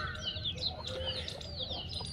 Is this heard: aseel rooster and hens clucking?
yes